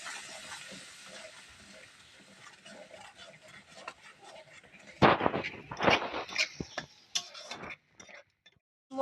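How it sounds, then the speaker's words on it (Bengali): Spice paste for a Bengali raw-banana fish curry, loosened with a little water, being fried and stirred in a pan; faint sizzling at first, then louder bursts of scraping and spattering in the second half. "একটু সামান্য পরিমাণে জল দিয়ে দেবো, মশলা ধোয়ার জলটা দিয়ে একটু কষিয়ে নেবো।"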